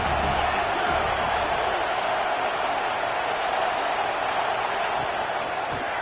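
A packed college football stadium crowd gives a steady, loud roar that fills the whole stretch without a break.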